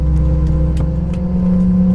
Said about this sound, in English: Here the engine starting up.